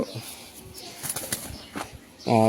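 A grizzle racing pigeon's wings flap in a few quick bursts close by, followed by a sudden loud tonal noise at the end.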